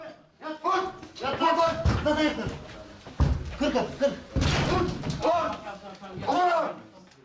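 Police raid on a residence apartment, with heavy thuds and slams of a door being forced, heard under continuous talking.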